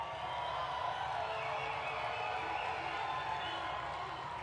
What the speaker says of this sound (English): Hopefully you can hear that applause.